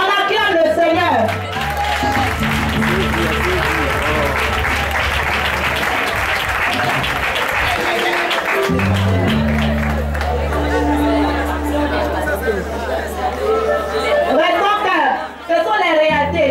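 A church congregation applauds and cheers for the Lord, sustained loud clapping and crowd noise with mixed voices and chatter, over steady low musical tones, building and holding throughout.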